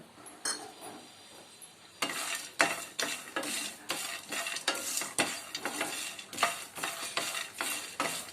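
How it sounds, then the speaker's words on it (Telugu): Poppy seeds, peanut pieces and coconut chunks dry roasting in a pan for a drumstick masala, with a quiet start giving way to repeated, rhythmic scraping stir strokes against the pan and a faint sizzle. "ఇవన్నీ బాగా డ్రై రోస్ట్ చేసుకోవాలి"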